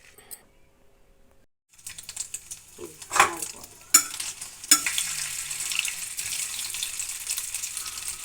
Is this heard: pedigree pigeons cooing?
no